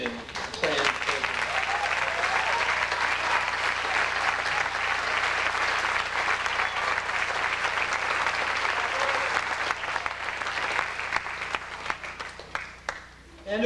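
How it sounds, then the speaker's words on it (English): An audience in a hall gives a long, steady round of applause, dense and evenly loud for over ten seconds before thinning out and fading near the end. "they deserve a round of applause for an outstanding planned program"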